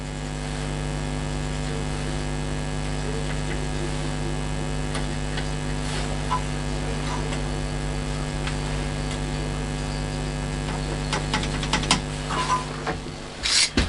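A drill runs steadily while boring holes in aluminium rear struts for a homemade short-wheelbase recumbent bike: a constant droning motor hum with faint scraping and a few sharper metallic clicks near the end.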